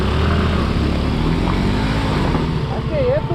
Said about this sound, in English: So Anil is taking his bike.